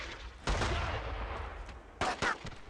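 Gunfire in the World War II shooter Brothers in Arms: Road to Hill 30: a loud nearby shot, a lingering rumbling tail, then a second quick pair of sharp reports.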